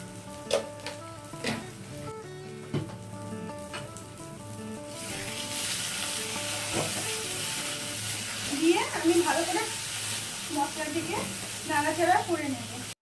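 Masala paste cooking in oil for Bengali potol posto, a low sizzle that turns livelier and more crackly toward the end, with a steady hum and a few clinks underneath.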